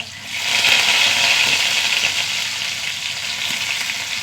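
Mustard seeds, onion, curry leaves and dried red chillies frying in hot coconut oil, a loud, steady hissing sizzle with faint crackles throughout.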